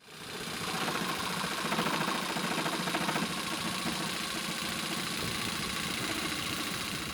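A Ronix 4111 electric jigsaw cutting wood at maximum speed with full orbital action, producing a continuous loud buzzing, rattling motor drone that holds steady after a quick start.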